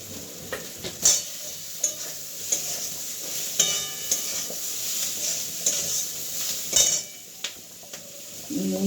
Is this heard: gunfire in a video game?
no